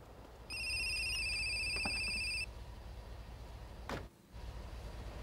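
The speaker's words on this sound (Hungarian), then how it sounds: "Az kocsi telefonon hív." Car phone ringing inside a vehicle in the video game GTA San Andreas, a bright electronic ring tone repeating steadily for about two seconds over low engine hum, followed by a short whoosh.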